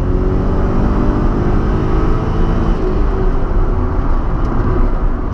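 A 1993 Ford Probe V6 engine drones steadily and loudly from inside the cabin, a constant low roar with a slowly rising pitch as the vehicle accelerates.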